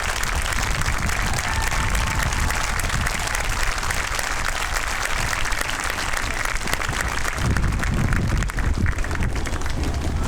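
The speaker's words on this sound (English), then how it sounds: "Let's give them a big round of applause." A big round of applause for teachers at a Lawton Public Schools groundbreaking, a dense, loud wash of many hands clapping continuously for about ten seconds, with a brief surge near the end.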